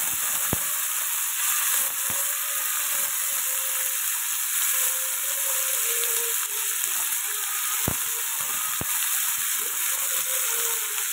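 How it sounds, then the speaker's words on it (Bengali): Carrot and potato fry in a pan with a soft, even sizzle, close and steady, marked by a few sharp clicks of utensil contact, with no speech. "এটাকে ভালো করে ভাজবো"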